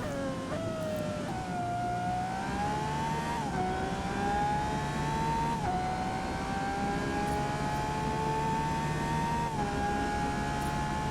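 A racing car engine in the Forza Motorsport video game, heard from the cockpit, drones loudly and continuously, pitch climbing through gears with brief drops at each shift.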